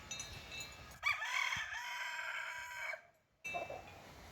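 A chicken in a backyard garden gives one loud, drawn-out crowing call lasting about two seconds, heard alone and close, with brief quieter clucks after a short pause.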